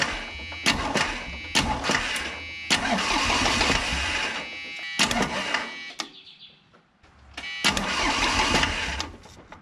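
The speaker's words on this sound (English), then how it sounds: "Let's crank it over a little bit and see if they return." A Yanmar 3TN82E three-cylinder diesel with a stuck injection pump cranks over in loud, repeated starter bursts separated by brief pauses, close to the listener, with no talking.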